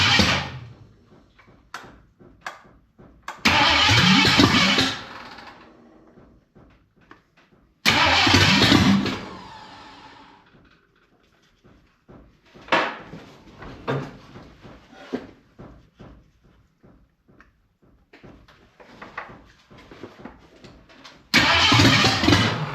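A Ford 302 V8 freshly installed in a Dentside Ford truck cranks in several loud, close bursts separated by pauses and clanking, then briefly catches and sputters, with no talking.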